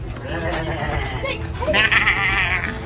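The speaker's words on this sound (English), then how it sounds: "aren't you gonna love on this billy goat over here?" A billy goat at the Tulsa Zoo gives a loud, wavering bleat close by, with people talking around it at a family outing.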